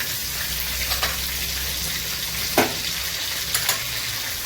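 Ginger frying in hot oil makes a steady, close sizzle, broken by a few sharp spatula scrapes and clacks as it is stirred, with no speech.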